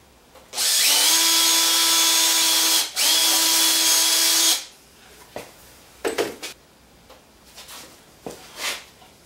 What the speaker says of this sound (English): So I'll drill a small hole in there.